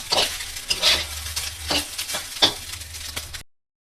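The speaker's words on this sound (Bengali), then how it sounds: "গরম করে নিচ্ছি ফ্রাইড রাইসটা।" Fried rice reheating in a hot pan, with a low steady sizzle beneath repeated sharp scrapes and clatters of a spatula stirring, close and moderately loud, ending abruptly.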